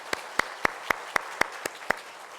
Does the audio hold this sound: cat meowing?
no